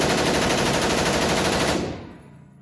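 Ruger AC-556 rifle firing a sustained fully automatic burst, a loud, dense stream of rapid shots that runs for almost two seconds and then cuts off, leaving a short fading echo.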